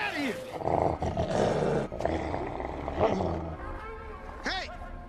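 A wolf lured by blood toward a trap gives low growls and rough snarling roars over dense, continuous film-scene background sound and voices.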